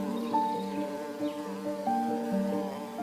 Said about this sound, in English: the swarm of wasps does not let up